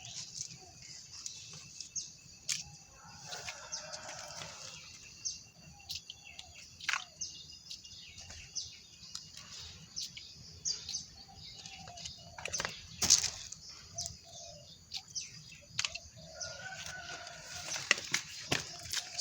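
Chickens cluck and a rooster crows on a home setting where fish and poultry are fed, scattered calls and chirps rising and fading over a steady background hiss for a long stretch, with no clear speech.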